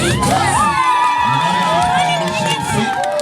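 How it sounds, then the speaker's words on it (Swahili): Guests at a home wedding celebration cheer and shout for the newlyweds, a loud close crowd of excited voices and whoops with children yelling, brief and continuous. "Makofi kwa maharusi wetu."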